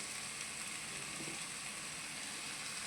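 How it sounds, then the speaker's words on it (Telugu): Tomatoes softening in hot oil with chillies and dals for uggani, a faint, even, continuous sizzle with no distinct strokes, steady throughout. "ఈ టమాటాలు కాస్త బాగా మెత్తగా మగ్గిపోవాలి నూనెలో, అంతవరకు వేయించుకోవాలి"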